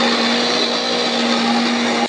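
An electric blender grinding ginger and garlic into paste, a loud steady high whine running without pause, close, no talking.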